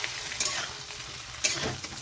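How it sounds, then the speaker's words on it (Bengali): Flat beans and potatoes frying in a pan while being stirred, a steady sizzle broken by a few quick scraping stir strokes, close and without voices. "এখানে সিম আর আলুটা ভাজা হয়ে গেছে"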